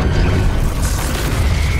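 A loud, dense explosion in the Fortnite video game fills the short moment with a heavy low rumble and crackling burst noise.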